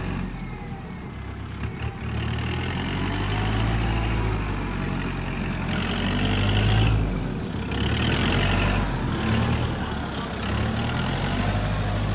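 A heavy tractor engine runs steadily, its low rumble rising and falling slightly as it revs, with no talk over it.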